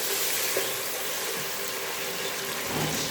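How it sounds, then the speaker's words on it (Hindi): Tomatoes and spices fry in a pan after browned onions in a pumpkin and chana dal dish, giving a steady, close, even sizzle with no talk. "अब हम इसमें टमाटर डालेंगे अच्छी तरह मसाले डालकर अच्छी तरह भूनेंगे"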